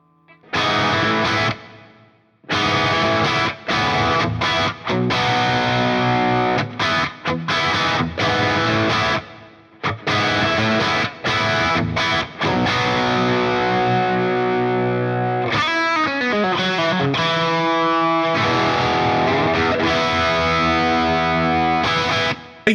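Electric guitar played through the clean-channel-two setting of a Friedman IRX amp, loud distorted riffs and chords in bursts with short gaps, ending on a wavering bend and sustained chord.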